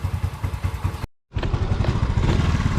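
A 110cc Yamaha Mio M3 scooter with an upgraded injector idles close up, a steady chugging putter that drops out briefly, then resumes at a slightly higher, busier pitch.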